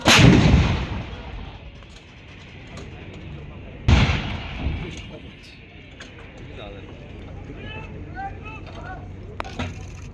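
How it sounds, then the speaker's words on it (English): Indian Army artillery gun firing on a hilltop target during a firepower demonstration in Nashik: two loud booming blasts with long rolling echoes, followed by a softer, distant rumble and faint background voices. "The gun will now display its firepower capability on golden top."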